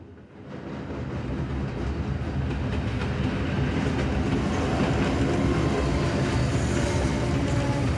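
A train rolls along steadily in the survival horror game Tormented Souls 2, a loud, continuous rumble with a faint clickety-clack that swells in the first second and then holds level for several seconds, with no voices.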